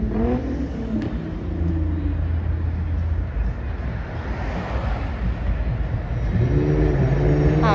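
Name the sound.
Genesis car driving by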